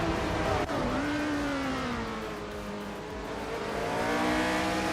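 Shadow DN5 race car engine in a racing game, a steady high whine as the car holds speed and the pitch drifts, with other cars droning close by.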